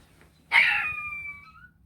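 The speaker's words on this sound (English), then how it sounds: "that would be my dog barking" A pet dog at home lets out a single drawn-out, tonal bark-like call that trails off over about a second, fairly close, with quiet room noise before and after.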